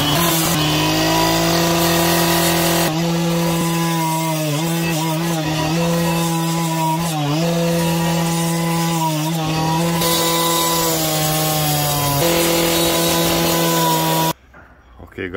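A power saw grinds steadily through a brick wall, its motor whining at a sustained pitch with slight dips as the blade bites, loud and close, ending abruptly into near quiet.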